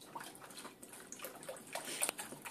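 Sanitizing water is poured out of plastic drinking-water bottles, giving a continuous soft splashing and gurgling stream with small glugs, fairly quiet and close, with no talking.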